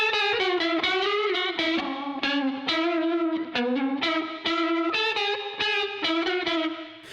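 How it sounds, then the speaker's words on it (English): An electric guitar played through a $20 budget analog chorus pedal, with shimmering, warbling chorus on a continuous run of picked notes and chords, loud and close with no talking. "you can get amazing chorus sounds like this."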